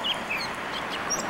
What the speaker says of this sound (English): you can hear the birds chirping and the cars driving by on Mass Ave